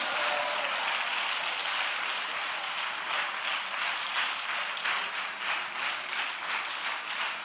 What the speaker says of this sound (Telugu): Clap your hands and worship the Lord